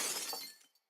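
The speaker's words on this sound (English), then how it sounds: "that's where I have the glass sound effect from" A sampled glass shatter from a trap sound pack bursts loudly with bright crashing shards, then decays quickly into silence within a second.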